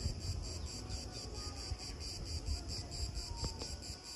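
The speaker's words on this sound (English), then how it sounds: "What is that sound? Cicadas?" Cicadas drone in a steady, pulsing high-pitched chorus at the Ancient Agora in Athens, continuous and fairly close, with faint low outdoor rumble beneath.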